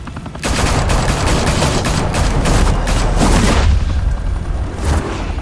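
Gunfire in the Batman Telltale Series video game: dense, rapid bursts of shots and booms crackling almost nonstop, then a brief lull before a final volley.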